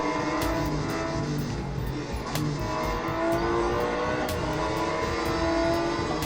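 Race car engine from the Real Racing 3 game played on a Mi TV 4 Pro, a loud continuous roar with shifting revs and faint tire noise throughout.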